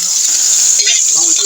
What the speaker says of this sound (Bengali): চাউল ভাজা হচ্ছে